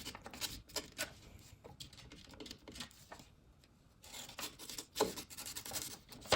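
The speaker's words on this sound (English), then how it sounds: "I'm just kind of leaning the razor against the vertical edge" A razor blade scraping along the edge of an antique wooden stool, faint uneven rasping strokes with short pauses, close but very quiet, no talk.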